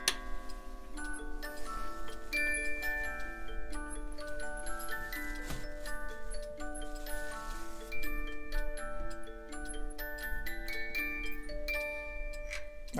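A hand-carved Black Forest eight-day musical cuckoo clock with a fox-in-the-vineyard theme plays a bright, plucked music-box melody, its notes ringing out steadily and alone over a soft continuous mechanical background.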